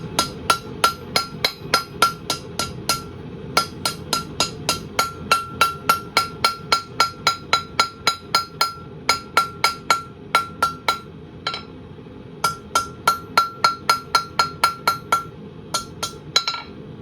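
A blacksmith hammers steel to forge a round point, with rapid rhythmic ringing hammer strikes on the anvil in bursts of a dozen or so blows separated by brief pauses, loud and close, no talking.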